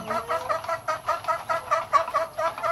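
Kabir breeder chickens in a farm pen give a close, steady series of rhythmic clucks and low calls, repeating roughly twice per second without pause.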